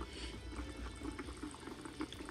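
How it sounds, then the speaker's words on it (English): Stewed chicken in a seasoned liquid simmers in a pot at a steady low boil, with a soft continuous bubbling hiss close by and no talk. "It got a nice little boil going to it."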